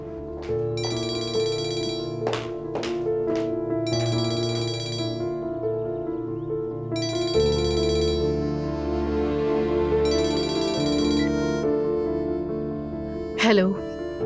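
A telephone rings in repeated trilling bursts, evenly spaced, over a steady musical backdrop, with a brief sharp sweep near the end.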